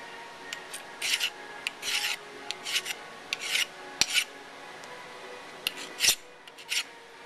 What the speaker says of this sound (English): so I still have to deburr some more